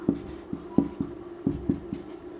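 A pen writes on paper in a quiet room, giving a series of short, close scratchy strokes in an uneven rhythm, about six or seven distinct marks separated by brief pauses.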